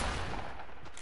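Flintlock pistol fire in a PS4 video game, a dense burst of gunshots filling the whole short moment, loud and continuous with no pauses or voices.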